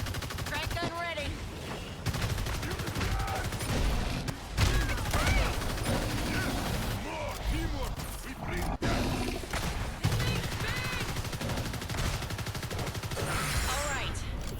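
Crank gun in the video game Evolve firing in rapid sustained bursts, loud and dense with explosive impacts and combat noise, while players talk over the gunfire.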